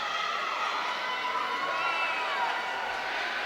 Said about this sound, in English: you can hear the crowd here in Monroe, Georgia coming alive for Wild Billy Buck